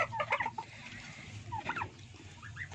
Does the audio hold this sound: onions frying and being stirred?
no